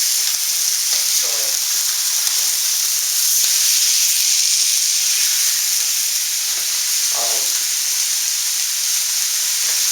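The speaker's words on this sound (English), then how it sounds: "basically you're going to brown the meat like you do any other kind of ground beef" Ground beef browning in a pan, a steady broadband sizzle and hiss of frying meat running continuously, with a couple of brief stirring scrapes, no voices.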